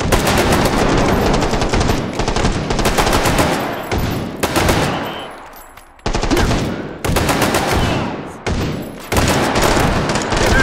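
Rapid automatic gunfire in the VR shooter H3VR, loud bursts of close machine-gun fire broken by brief pauses, one burst fading into a short lull before firing resumes.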